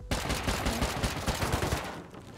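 Gunfire in the survival game Rust rings out close and loud as a rapid burst of repeated shots lasting about two seconds.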